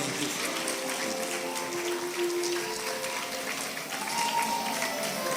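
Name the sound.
applause at a graduation ceremony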